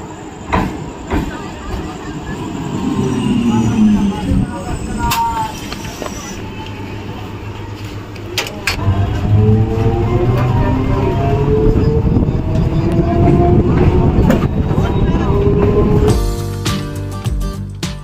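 A local train at Howrah rumbles steadily with a low, continuous roar, rising hiss and rhythmic mechanical clatter, loud and close, while voices murmur in the background.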